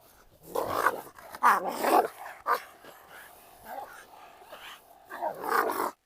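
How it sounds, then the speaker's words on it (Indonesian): A Rottweiler growls and pants in short, rough bursts with breathy gaps between them, close by, with a little barking mixed in. "Hewan itu juga terengah-engah saat menggonggong."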